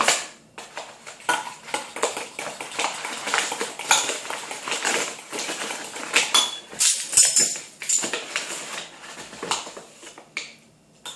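A spoon scoops three tablespoons of flour into a mug: a run of dry scraping and light clinks of metal on ceramic, close and busy.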